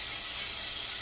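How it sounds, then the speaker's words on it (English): Excess rinse water poured off washed fish in a kitchen, a steady, close splashing stream of liquid running continuously without a break. "you just pour the excess water out"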